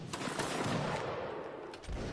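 Massed musket gunfire from a Napoleonic Wars line battle, a dense rolling crackle of distant volleys layered under steady battlefield ambience.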